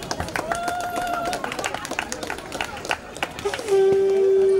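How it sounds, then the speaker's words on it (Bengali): At a welcoming ceremony during a fiftieth-anniversary Annapurna Puja celebration, a crowd claps in scattered bursts amid voices and chatter, then a sustained, steady ululating tone rises and carries on over the noise. "করতালি ধ্বনি এবং উলুধ্বনির মধ্য দিয়ে এই বরণ পর্ব চলছে"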